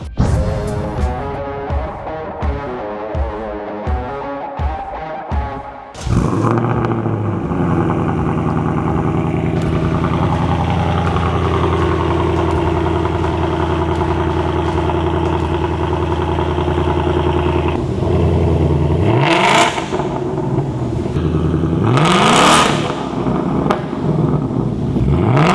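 A 2024 Mustang with resonator deleted and stock muffler cranks with rapid pulses, fires up into a loud, rumbling idle, then revs sharply twice near the end with a raspy exhaust roar.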